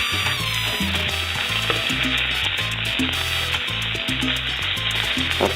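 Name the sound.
asparagus omelette frying after being flipped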